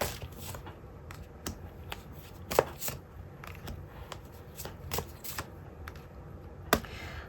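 Tarot cards are shuffled and drawn in a quiet room, with soft irregular riffling and crisp taps and flicks of card stock, a few sharper snaps standing out, close and fairly faint.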